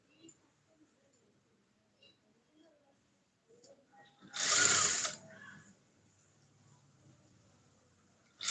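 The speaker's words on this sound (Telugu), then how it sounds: "మళ్ళీ ఇప్పుడు కుట్టేసి మళ్ళీ కట్ చేసి మళ్ళీ కుడుతున్నా" Sewing machine stitching fabric during a garment top alteration, a short loud burst of machine running for about a second amid quiet room noise and small clicks.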